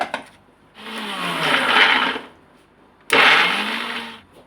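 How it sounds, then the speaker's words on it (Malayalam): A mixer grinder runs in two loud bursts, grinding green chilies, cumin powder and garlic with a whirring, rattling roar, separated by a short pause. "ഒരു 5 പച്ചമുളക് ഇടുക. ജീരകപ്പൊടി 1 സ്പൂണ്, 6 ചില്ലി വെളുത്തുള്ളി, ഇവയെല്ലാം ഇട്ടിട്ട് നമ്മൾ അരയ്ക്കണം."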